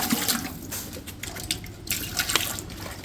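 Water runs from a tap into a canner holding beans, a steady, fairly quiet splashing stream of tap water with small fluctuations and no talking.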